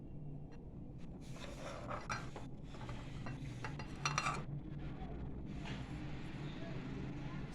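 A utensil clinks and scrapes against a bowl in irregular bursts while chicken is stirred with mayonnaise, ketchup, salt and black pepper. The sound is faint over a low background hum, and someone talks.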